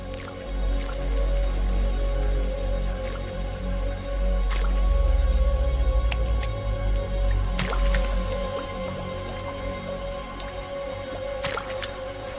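Rain dripping in a wild forest, with scattered wet drips and soft squishy patters over a low, constant background rumble, continuing unhurried for over ten seconds.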